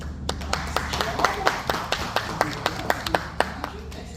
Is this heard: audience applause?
yes